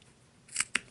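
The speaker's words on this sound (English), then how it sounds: "I'm going to go in with my scissors and make little" Scissors cut fringe into a small sock, two crisp, close snips about a moment apart in an otherwise quiet setting.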